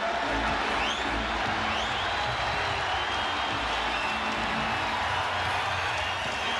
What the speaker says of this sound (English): Crowd trying to rile up the Lakers.